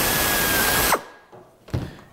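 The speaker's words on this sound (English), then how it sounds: "we are all set up here with our air drill." An air drill whines loudly and continuously as it bores through sheet metal, then cuts off abruptly, followed by a quieter hiss and a brief second pneumatic burst shortly after.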